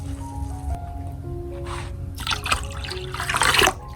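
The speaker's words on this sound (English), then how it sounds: "After filtering, I add 1 more liter of water, equivalent to 4 cups, to dilute the mixture." Water poured into a container to dilute an orange peel and rice mixture for orchids, a soft splashing and trickling that builds and grows louder before stopping abruptly.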